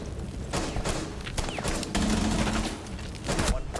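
Gunfire in a tactical shooter video game, several sharp shots and short bursts crackling over a dense, noisy game soundscape, moderately loud and close.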